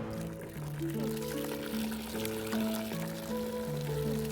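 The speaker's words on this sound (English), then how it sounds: "You do the tap. Okay. Wait for the water." Water running from a tap into a bucket for car washing, a steady pouring rush throughout, fairly quiet and close, with sustained musical notes playing over it and no speech.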